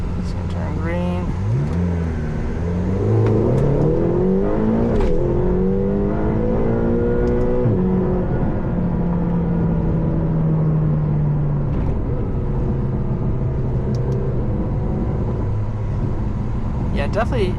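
A McLaren GT pulls away hard from a standstill, its engine note rising steadily through the gears with loud, close revving that fills the cabin, while a voice talks over it.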